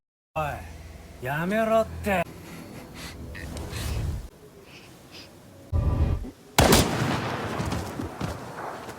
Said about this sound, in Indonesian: Yoko malah menembak Utsubo